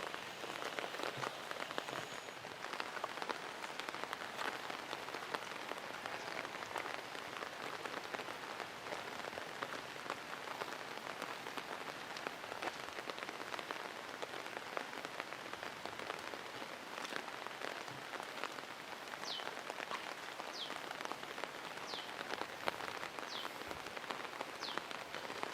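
Heavy rain pours steadily over a village, a dense, even hiss of drops on roofs and ground that continues unbroken throughout, with no voices.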